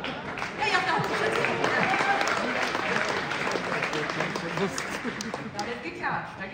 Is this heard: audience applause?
yes